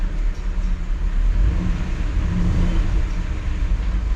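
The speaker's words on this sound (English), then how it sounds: "I just turn the key and start it and let it just idle dead slow until the oil pressure comes up" A 1959 Chevrolet Bel Air engine running at a slow, steady idle, a low continuous rumble up close with no talk.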